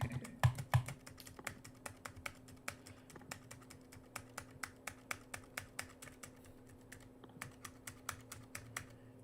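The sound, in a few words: typing on a magic keyboard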